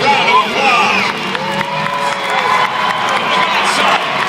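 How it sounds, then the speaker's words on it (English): A crowd at an outdoor monster truck show cheers and whoops, with children shouting and scattered clapping, a dense continuous roar while an announcer's amplified voice carries over it. "can I hear a round of applause?"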